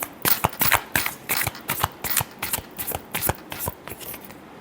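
Tarot cards are shuffled by hand in a quick, steady run of crisp riffling bursts, close and clear, with no talking.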